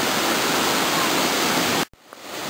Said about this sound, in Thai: น้ำตกที่ไหลจากด้านบนลงมาด้านล่าง มีความสูงก็เลยที่การประมาณหนึ่งร้อย เมตร